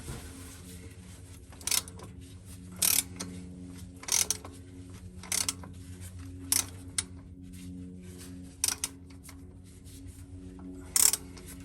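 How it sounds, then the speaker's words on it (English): Oil filter being tightened by hand on a Ford V10 E-450 Class C motorhome, about eight sharp ratcheting clicks at regular intervals, close and distinct over a low background hum. "new filter's on, tightened down"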